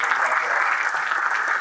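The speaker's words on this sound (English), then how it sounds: "we should definitely give them a big applause" A room of people applauding volunteers at a team introduction, an even wash of clapping held at a constant level for a short burst with no clear voices over it.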